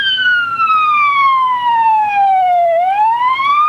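A fire truck siren in a street parade wails loud and close in one long descending sweep, then rises again near the end, with no talk over it.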